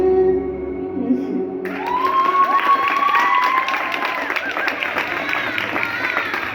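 An audience applauds and cheers after a live song at a Haitian music performance, a dense wash of clapping and whoops rising abruptly from a quieter start and holding loud and steady.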